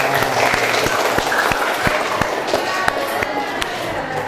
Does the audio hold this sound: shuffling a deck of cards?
no